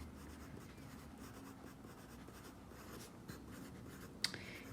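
A pencil writes labels on paper, a soft, steady close-up scratching that continues for several seconds with one small sharp tap near the end.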